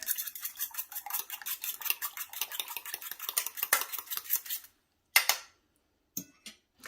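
Eggs whisked briskly in a bowl for breakfast tartlets or mini quiches, a fast even ticking of the whisk against the bowl for several seconds before it stops, then a few isolated clinks in near silence.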